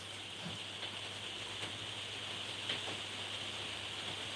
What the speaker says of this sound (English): If you're hearing a little rain or something banging around